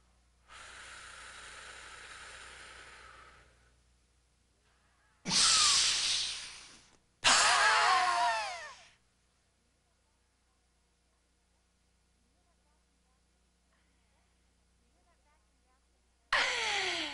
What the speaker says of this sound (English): You hear that vacuum gasp in the end?